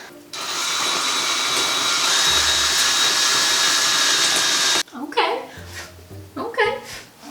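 A power sander works into the corners of a basement wall, giving a loud continuous whirring grind for several seconds that cuts off abruptly before a voice starts speaking over short bursts of lower motor noise.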